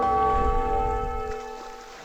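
A church bell in Age of Empires 2: The Conquerors rings out once, a bright metallic strike with long sustained harmonic overtones that slowly fade over about two seconds, with a low rumble of game ambience beneath.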